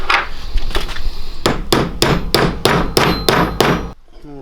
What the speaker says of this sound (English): This brass bushing has to hammer down in this.